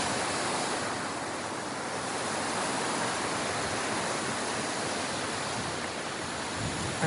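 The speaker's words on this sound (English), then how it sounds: "I love this waterfall." Waterfall on the river near Ponte Vecchio in Florence, a loud, steady broadband rush of falling water with no talking, with some wind buffeting on the microphone.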